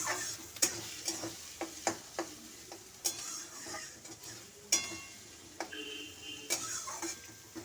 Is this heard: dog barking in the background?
no